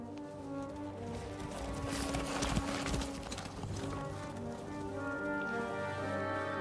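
Horse hooves clip-clopping in the video game Kingdom Come: Deliverance 2, a quick run of hoof beats over a steady tonal music bed, moderately close and fairly quiet.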